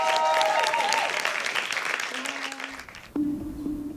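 Audience applause for a poet at a poetry slam, a dense crowd clapping loudly and steadily, fading slightly before a tonal music swell enters near the end.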